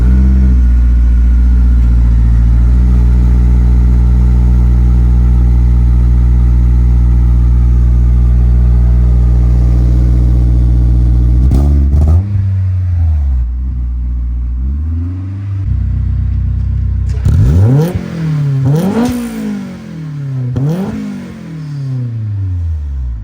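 A Honda S2000 with a Yonaka exhaust runs loud and steady, then cuts out before cold-starting again with several sharp throttle revs rising and falling.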